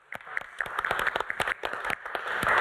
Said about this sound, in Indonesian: kita tepuk tangan dulu yuk buat Mbak Arista